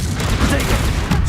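A Confringo fire-blast spell from Hogwarts Legacy bursts amid a dense, crackling barrage of combat noise, loud and continuous through the short moment, with a voice shouting over it.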